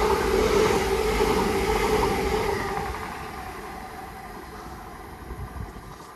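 A train passing through Welwyn North station, a loud broadband rumble and rush that holds steady and then slowly fades as it moves off into the distance.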